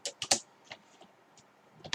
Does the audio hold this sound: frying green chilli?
no